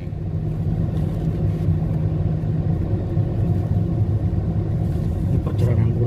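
A blue car sets off from a parking area near Masjidil Haram in Mecca, giving a steady low engine rumble and road noise throughout, close and continuous with no sharp changes.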